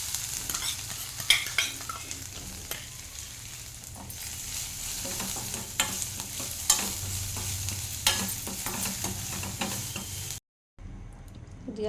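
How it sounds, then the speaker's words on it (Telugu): Washed moong dal stirred and frying in ghee in a pot, a steady close sizzle broken by scraping stirs and spoon knocks, with a brief dropout near the end. "పెసరపప్పును కడిగి పెట్టుకున్నా. ఇది కూడా కొంచెం వేయించుకోవాలి నెయ్యిలో."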